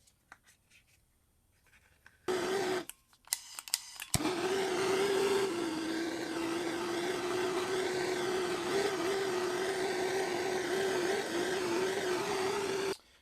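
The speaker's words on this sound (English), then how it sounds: "we'll take some heat shrink and just slide that over and just heat shrink them together real fast" A heat gun shrinks tubing over the wires of a 60-year-old Craftsman arc welder: a few clicks and short bursts, then a steady, loud, close whirring drone that holds to the end.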